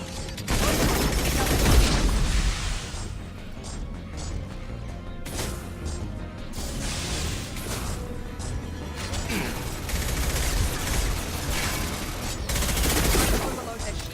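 Sustained bursts of video-game gunfire from Mass Effect 2 fill the scene, rapid automatic shots and crashing impacts layered with battle noise, loud and continuous throughout with some game voice chatter mixed in.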